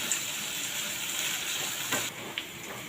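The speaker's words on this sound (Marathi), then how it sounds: "इथे पाच ते सहा कडीपत्त्याची पानं घालत आहे आता हे परतून घ्यायचं आहे" Chopped onion and curry leaves sautéing in a pan for besan bhurji, a continuous close sizzle with a couple of soft stirring knocks near the end. No one speaks.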